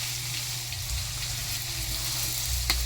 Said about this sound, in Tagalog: So, ngayon ay igigisa na natin siya